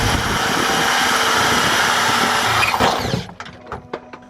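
A power drill bores a hole through a Nissan 350Z strut bar, a loud continuous whine that stops near the end and leaves a few sharp knocks and clatters.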